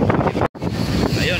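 Strong shoreline wind buffets the microphone in a dense, loud roar with a brief cutout, as waves wash nearby and a voice sounds faintly underneath.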